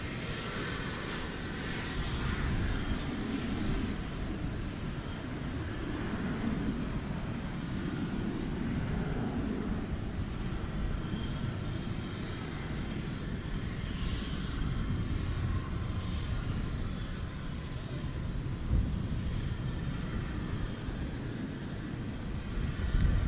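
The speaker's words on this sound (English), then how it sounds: "it's supposed to depart, Tom, as we check out the Dreamliner there" Boeing 787 Dreamliner jet at Dallas Fort Worth International Airport, a steady, loud broadband engine roar that holds evenly throughout without talk.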